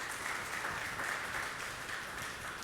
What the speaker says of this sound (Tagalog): Palakpak muli sa Panginoon.